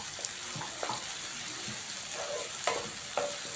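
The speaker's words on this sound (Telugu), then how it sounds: "ఉల్లిపాయలు తొందరగా వేగిపోతాయండి" Sliced onions and green chillies frying in oil with curry leaves, a soft steady sizzle heard up close with a few light spoon clicks against the pan, fairly quiet and without voices.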